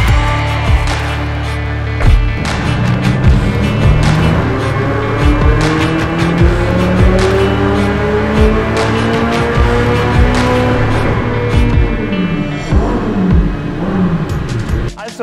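A Ferrari 488 GTB runs at full power on a dynamometer, a loud, sustained, close roar with rising and falling harmonic sweeps as revs climb and shift, filling the whole stretch with no talk over it.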